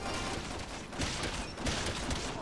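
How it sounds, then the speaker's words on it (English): Dense, continuous gunfire from the Resident Evil 6 co-op video game, with rapid overlapping shots at steady loud volume that surge briefly a few times over a couple of seconds. "You run in a circle and I'll shoot him."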